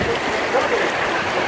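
Torrential rain pours down in heavy sheets, a dense, steady broadband hiss and splatter that stays loud and even throughout.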